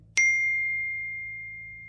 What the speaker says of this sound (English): his phone go off again.